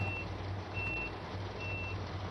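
Door-locking warning beeps on an ICE high-speed train in the game Train Sim World 2, a repeating series of sharp, evenly spaced electronic beeps over a steady low engine hum, with no talking.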